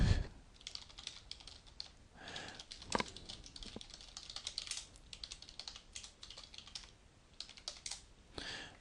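Typing on a computer keyboard while adding a new user in WordPress settings, a continuous close run of quick key clicks with brief pauses and a few louder keystrokes.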